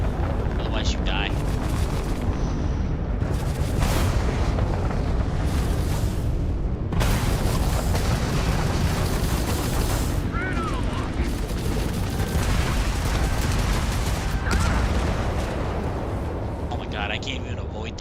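A Starfield space ship battle rages with dense, continuous laser fire and booming explosions, loud and chaotic throughout with sharp blasts breaking through a constant roar.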